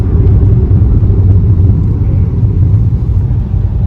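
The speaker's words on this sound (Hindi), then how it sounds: "ट्रक है यहाँ।" A truck engine rumbles at a roadside truck market on the road between Indore and Gwalior, a loud, steady low drone filling the whole stretch with no talking.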